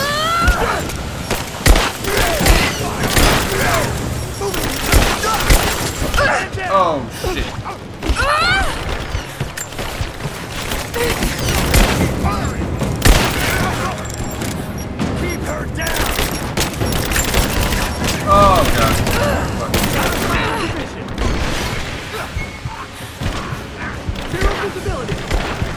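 Sustained gunfire and bursts from the video game Rise of the Tomb Raider on Xbox One, loud and near in a chaotic firefight with booms and clatter, and players shouting and talking over the shooting throughout.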